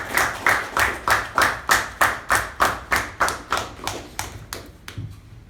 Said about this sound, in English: A big round of applause for Toastmaster Sanjana.